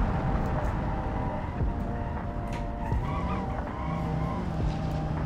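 Hard braking with tires squealing and skidding on a car in the driving game BeamNG, a steady engine drone underneath with sharp squeal streaks and thumps across several seconds, no talk.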